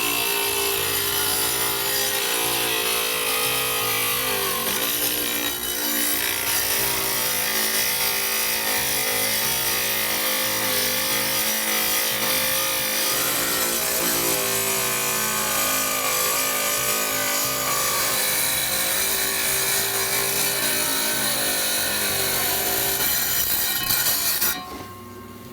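A wet tile saw grinds through stone in a long continuous cut, a loud steady whining drone with shifting pitch as the blade bites, close and unbroken until it winds down at the end.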